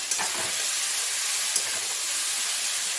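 Water boiling in a cooking pot on a gas stove while making peyaj posto, a steady loud hissing and bubbling roar that continues without break, close by.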